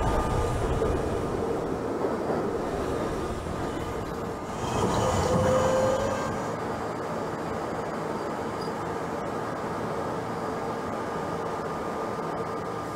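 A simulated New York City subway J train on an elevated line in Trainz Simulator 2012 rumbles steadily with wheel noise and track clatter, swelling briefly midway with a faint squeal, continuous and close.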